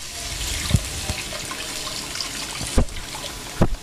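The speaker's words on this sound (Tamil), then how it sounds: "இப்போ நான் புளி தண்ணியை இதில் ஊற்ற போகிறேன்." Tamarind water pours into a pan of fish curry base with curry leaves, a continuous splashing trickle with a few louder clunks and knocks, close and steady throughout.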